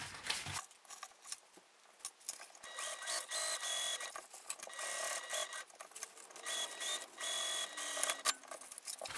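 A sewing machine bastes along the sides of a fabric pouch with uneven runs of fast, close stitching that start, stop and restart, with no talking.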